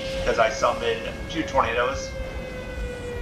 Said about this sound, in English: Oh, sirens are going off